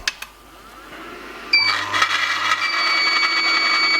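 Motor of an Angel Juicer twin-gear juicer starting up after a couple of light clicks, then a steady mid-level whirring hum with faint whine, running alone.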